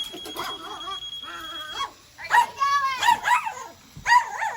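Dogs bark and whimper at a metal remote control wheel loader toy, with several yips and barks in short bursts close by, mixed with people talking.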